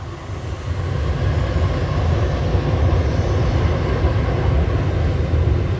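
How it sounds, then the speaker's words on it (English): Jet2 airliner departing for Nice from Manchester Airport, a steady loud roar of jet engines filling the air continuously, rising slightly in the first second and then holding at a constant broad rumble. "And that's the Jet 2 to Nice departing."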